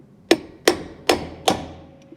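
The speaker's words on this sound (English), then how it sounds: "I'm going to belt it on as much as I can with a hammer" Four sharp, evenly spaced hammer blows strike a metal clutch part from a Thwaites dumper truck, each a loud close metallic whack with a short ringing decay, and no voices.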